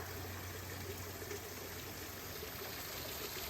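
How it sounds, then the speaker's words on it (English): Steady rushing water from a small waterfall, a continuous broadband splash with no breaks, moderately close and even in level throughout. "Looks like I was right about this little waterfall."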